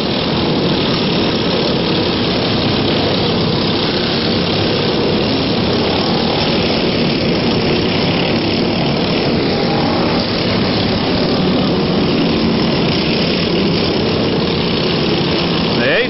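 Racing lawnmower tractor engines droning loudly and continuously on a dirt track at a Bash for Cash event, a steady mechanical roar with engines rising and falling as they pass.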